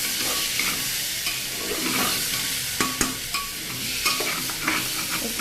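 Masoor lentils frying lightly in oil in a pan, a soft continuous sizzle broken by scraping stirs and a few sharp utensil knocks.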